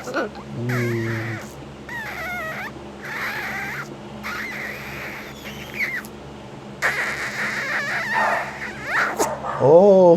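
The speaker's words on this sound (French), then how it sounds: "il y a Suki qui aboie" Suki the dog barks in short, separated yelps, fairly near, in a quiet home beside a pet parrot, with a few longer calls toward the end.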